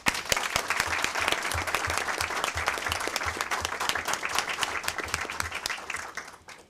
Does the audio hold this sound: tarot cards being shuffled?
no